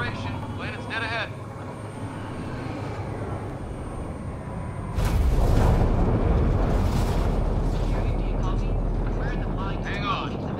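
Spacecraft entering a planet's atmosphere in the Mass Effect Andromeda video game: a loud, deep rushing roar starts abruptly midway and rumbles on steadily to the end, with voices talking before and over it.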